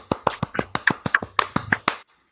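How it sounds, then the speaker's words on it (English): A short burst of applause: about a dozen sharp, evenly spaced hand claps, close and crisp, stopping abruptly after two seconds. "You need me the applause sound, Matt."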